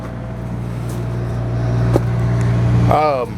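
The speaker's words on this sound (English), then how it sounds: "Generator's running right now." The generator on a 2005 Damon Ultrasport 3679 diesel Class A motorhome runs with a loud, steady low hum, and a person's voice briefly rises over it near the end.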